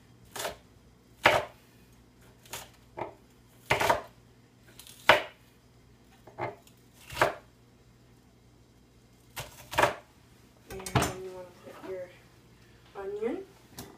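A knife chops vegetables on a cutting board in a kitchen cooking contest, sharp separate thuds spaced irregularly, some single and some in quick pairs, with faint speech in between.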